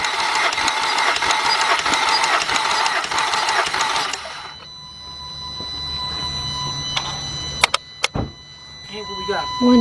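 A Volkswagen or Audi engine with a rear timing chain cranks over on the starter during a compression test, a dense rapid churning for about four seconds that then cuts off, followed by quiet shop noise and a few clicks.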